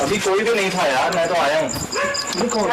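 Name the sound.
dogs barking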